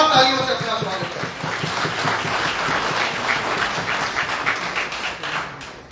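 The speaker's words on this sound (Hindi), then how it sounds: "आप सबसे भी एक बार जोरदार तालियों से अपना स्वागत करें।" Audience applause at a workshop for district presidents and secretaries, a steady dense patter of clapping with some thumps beneath, starting right after a voice and holding for several seconds.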